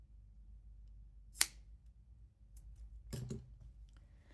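Scissors snip knitting yarn while finishing a garter stitch coaster, giving one crisp close cut followed by a softer double snip, quiet and without talk.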